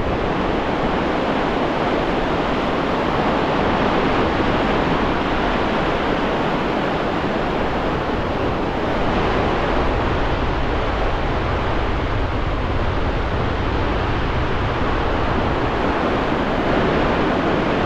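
Surf breaking on Woolacombe Beach, North Devon, a steady broad wash of rolling waves with a deep low rumble and some wind across the microphone, continuous throughout with no talk.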